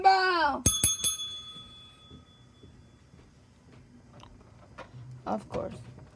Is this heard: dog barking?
no